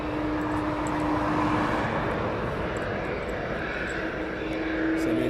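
An MNG cargo plane taxiing at East Midlands Airport produces a steady engine roar with a constant whine. It sounds moderately distant and stays unchanged throughout.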